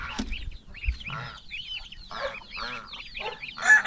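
Several chickens cluck and squawk in a repeated, uneven chorus close by, with bursts of agitated calls and brief rustling between them.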